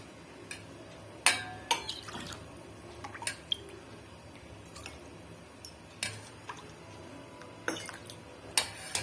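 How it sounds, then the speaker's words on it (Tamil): Sugar drink poured into a tumbler, heard as faint, near drips and trickles broken by several sharp glassy clinks spaced across the pour, with no talking. "ஸோ இப்போ நம்ம வந்து இதை டம்ளரில் ஊற்றி டேஸ்ட் பார்க்கலாம்."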